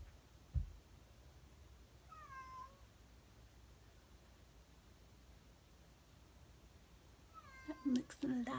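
A pet cat meows indoors, a short drawn-out call early on and then a sharper burst of meows near the end, over faint room hiss with a soft thump at the start.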